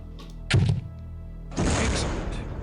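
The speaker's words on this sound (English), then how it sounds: "Now, destroy the target with a grenade." Grenade launcher firing at a target in the video game Soldier of Fortune 2: Double Helix, a hollow thunk followed a moment later by a broad, sustained burst of noise from the distance.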